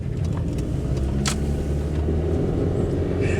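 A small Suzuki Alto's engine hums steadily from inside the car while driving, a light, buzzy drone with road rumble and a brief rattle midway.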